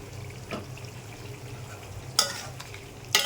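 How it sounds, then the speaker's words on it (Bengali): Mutton frying in a pan gives a soft, steady sizzle through the whole stretch, with a faint spoon stir near the start and two sharp metallic clinks of utensils late on. "মাংস দিয়ে কিছু সময় ভাজতে হবে।"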